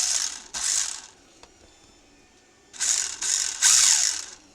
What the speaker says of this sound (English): it's possibly a poor mesh. Maybe too tight, maybe too loose, and the teeth are sort of skipping